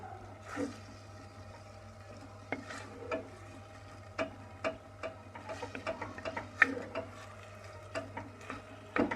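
Soft scraping and irregular ticks of a utensil stirring ingredients in a pan until they melt, made while preparing béchamel-sauced stuffed mushrooms, with a steady low hum underneath.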